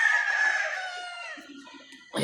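A quality game farm rooster crows once, loud and close, a long harmonic call that fades out before a brief burst of noise at the end.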